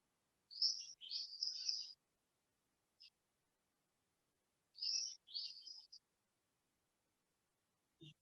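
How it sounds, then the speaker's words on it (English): Small birds chirp and tweet close by in quick high bursts, two clusters of calls separated by a brief single chirp and a quiet pause, with no other sound around them. "There are chirping sounds of the birds nearby,"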